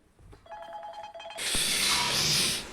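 A telephone rings with a short electronic tone, then a loud burst of hissy noise takes over.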